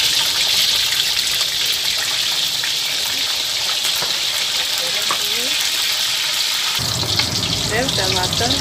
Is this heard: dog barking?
no